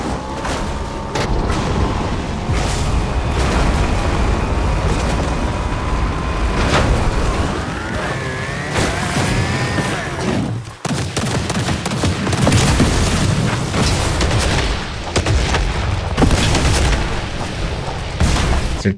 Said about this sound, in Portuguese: Acertar os outros perto de posto de gasolina é muito bom. Essas explosões naturais aqui.